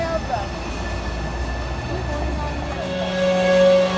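A train rumbles past in downtown Roanoke, Virginia, with low rolling noise and faint wheel squeal that swell toward the end, heard alongside background voices.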